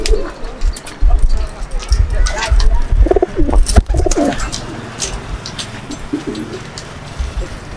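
Pigeons coo in a loft in Kuli, Murshidabad, with repeated soft, throaty calls from several birds close by, over a steady low rumble and brief background voices.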